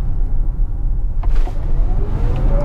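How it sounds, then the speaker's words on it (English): A Tesla Model X P100D electric SUV pulls away hard, a steady low rumble of road and motor noise from inside the cabin with a faint rising whine building toward the end. "Yeah, this car is ridiculously fast."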